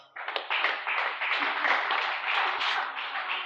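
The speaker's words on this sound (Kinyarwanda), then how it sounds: "Komera Imana amashyi" A church congregation breaks into steady, dense clapping in praise of God, many hands together at close range, continuing evenly from start to finish.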